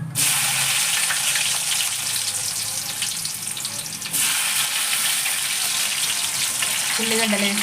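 Tempering seeds fry in hot oil in a pan, a loud continuous sizzle and crackle with a brief dip midway, joined by faint clinks and a soft voice toward the end.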